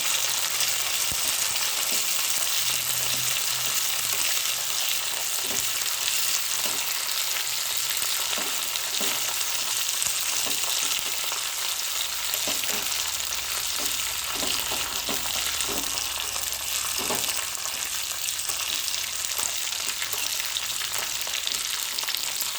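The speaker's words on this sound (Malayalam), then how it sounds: "കരിയാതെ വറുത്തെടുക്കണം" Coconut pieces, raisins and cashews fry in hot oil in a pan for a payasam, a steady loud sizzle with occasional stirring scrapes and no talk.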